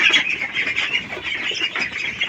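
Ducklings on a farm quack and squawk continuously while they eat, a busy overlapping chorus of many small birds close by.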